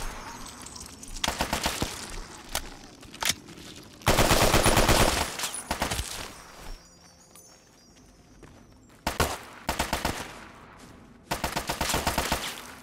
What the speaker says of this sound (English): We're taking fire from multiple locations here.